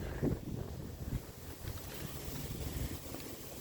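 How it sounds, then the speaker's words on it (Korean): Steady, faint wind rushes and buffets the microphone with a couple of brief thumps near the start, no voices. "바람 소리가 엄청나게 들리시는가요?"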